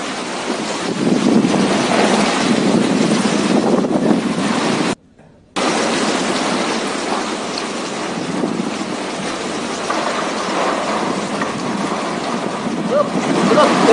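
Strong wind from Cyclone Nisarga roars continuously along the stormy western Indian coast, where heavy rain is falling and high sea waves are breaking. The loud, dense noise is interrupted by a brief cut of silence before it resumes.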